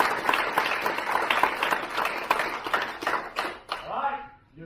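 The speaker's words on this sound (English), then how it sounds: "Let's give Mr. Lynn a round of applause." A room of people at a black belt ceremony applauds in a dense, continuous burst of clapping that fades out near the end, with some voices mixed in.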